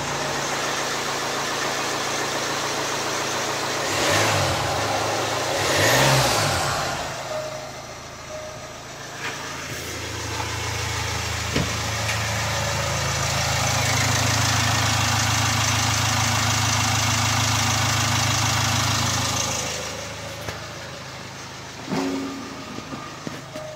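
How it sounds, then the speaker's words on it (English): A rebuilt Jaguar F-Pace engine idles with a steady low hum and fairly quiet mechanical whir, heard close up with a couple of brief swells and clunks early on and a louder stretch of drone in the middle. "That's way quieter than it's ever been on the old engine."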